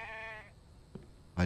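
A short, harmonic bleat from a sheep in the survival game The Infected opens the moment and trails off, followed by a soft thump and a louder burst at the end.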